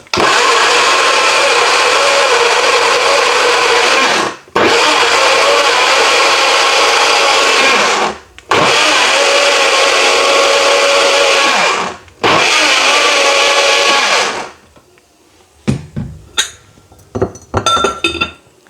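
A kitchen blender grinds two tomatoes in loud, steady bursts, run three or four times with brief pauses between, followed by clinks of the glass jar and lid being handled.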